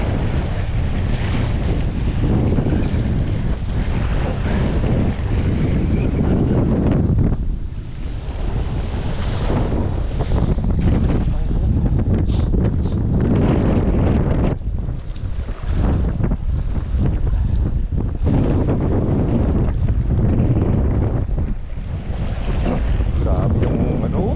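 Strong waves slap and churn across a rough fish pond amid gusting wind that buffets the microphone, a loud sustained wash with periodic surges and brief lulls.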